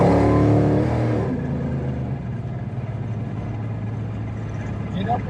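A big-block 1965 Dodge Coronet 500 accelerates at half throttle, a loud deep engine roar that swells briefly then settles into a steady lower rumble heard from inside the car, with no talking.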